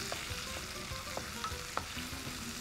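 A gravy base with ginger-garlic paste and tomato sautés in a pan, giving a soft, steady sizzle. Occasional light clicks of a stirring spoon punctuate it, and no one speaks.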